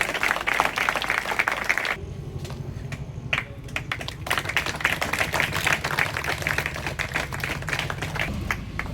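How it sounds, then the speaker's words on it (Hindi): Audience at a law college event in India claps steadily, a dense continuous patter of many hands with a low hum underneath, sustained throughout without talk. "आप लोग तालियां बजाते रहिएगा।"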